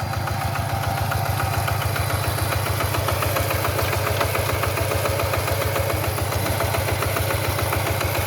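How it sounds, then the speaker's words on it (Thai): A small single-cylinder walk-behind two-wheel tractor engine, preparing a rice paddy, chugs steadily with a fast, even thumping rhythm, loud and close throughout. "อันนี้เขาก็ใส่แบบเป็นเครื่องจักรแล้วเป็นรถไถหน้าเดินตามแล้วนะคะ"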